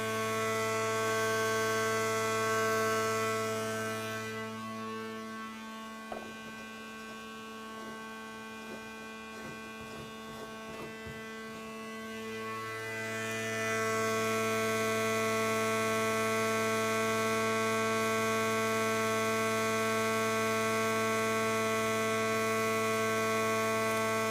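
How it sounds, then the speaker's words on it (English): A Kromrey converter machine hums steadily with strong mains-like tones, its hum dropping away briefly mid-clip before returning louder as the machine speeds back up. "Listen to the machine, speeding up."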